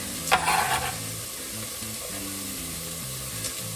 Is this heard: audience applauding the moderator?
no